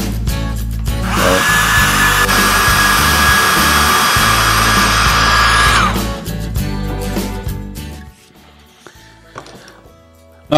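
A hair dryer blows steadily and loudly over a painting for about five seconds, switching on and off with a broad whooshing hiss, then the room falls much quieter with faint background sounds.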